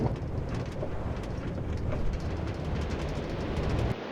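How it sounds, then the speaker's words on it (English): Steady rain in Minecraft, a dense continuous hiss of falling drops at even loudness throughout, with a faint low rumble underneath. "Oh, man, that's something Minecraft never does. Rain."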